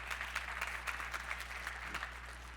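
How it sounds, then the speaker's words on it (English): Conference attendees applaud for Joe at a pitch event: a sustained wash of clapping, moderately distant, over a low steady electrical hum. "So round of applause for Joe as well."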